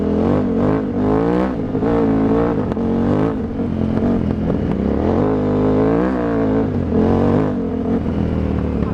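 A KTM 950 Adventure Rally, the 2003 Dakar bike, rides on the road, its loud engine note rising and falling through revs in a continuous, close drone with no voices.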